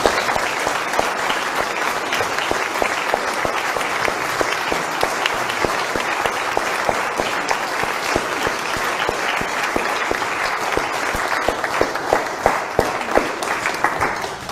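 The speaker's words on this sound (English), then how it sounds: "give to God a round of applause" A church congregation claps together in a dense, steady round of applause that holds evenly for about fourteen seconds, with no voices over it.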